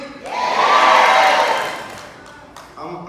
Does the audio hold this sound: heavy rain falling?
no